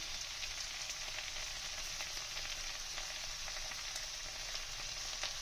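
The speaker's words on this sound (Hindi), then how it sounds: "अब मैं 4 table spoon garlic chilli sauce डाल रही हूँ" Veg chowmein sizzles loudly and steadily in a hot pan as garlic chili sauce goes in, a dense close frying hiss with faint stirring scrapes and no voices.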